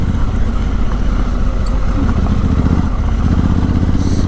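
A 2017 Honda Africa Twin motorcycle engine runs with its stock muffler, giving a loud, steady, rumbling drone that continues unbroken throughout, with no voices.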